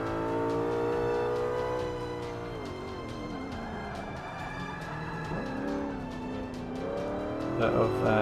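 BMW M5 spinning out during a Forza 5 video game race, engine revving and shifting pitch with tyre squeal as the car slides, under continuous commentary from someone talking over the game audio.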